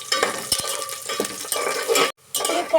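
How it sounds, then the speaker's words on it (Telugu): A spoon stirs carrots and curry leaves frying in a pan, giving steady sizzling with scraping and clinking against the metal. The sound is close and loud and stops briefly near the end. "క్యారెట్ కొంచెం రోస్ట్ అయ్యే వరకు కలపాలి."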